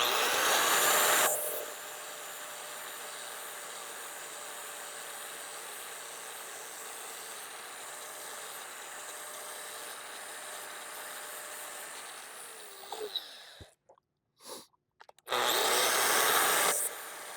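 Steady abrasive hiss of a power sander working a ground metal die face, moving from 40 grit scratches to a finer grit. The grinding runs loud and continuous, cuts out briefly near the end, then resumes.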